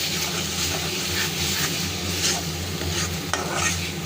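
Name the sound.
stirring and frying poppy seed masala in a pan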